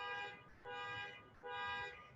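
A honking car sounds faintly in the distance, giving three sustained horn blasts with short gaps between them over quiet room tone.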